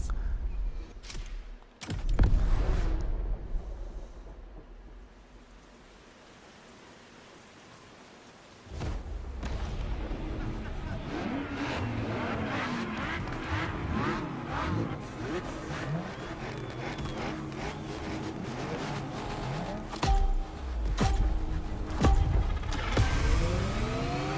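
Cars race in The Crew Motorfest: engine roar, a quieter stretch, then a run of rising and falling engine tones with whooshes and clatter, loud and sustained.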